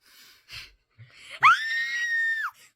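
A sharp, high-pitched scream in a video game rises suddenly and holds for about a second before cutting off, preceded by faint breathy sounds.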